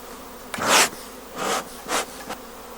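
Honeybees at an open beehive comb, three or four swelling bursts of close buzzing as bees pass near, over a quieter steady hum, with no talking.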